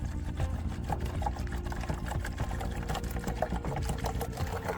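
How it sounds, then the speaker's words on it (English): Warm water pours steadily into a mixing container for a yeast and sugar garden mix, a continuous splashing and gurgling stream, fairly quiet and close, with no talking. "Pour the warm water into a mixing container."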